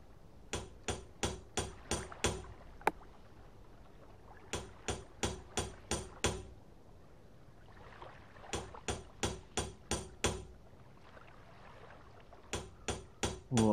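A stone hammer in the Eco video game strikes in quick rhythmic bursts of five or six sharp knocks, each burst separated by short pauses.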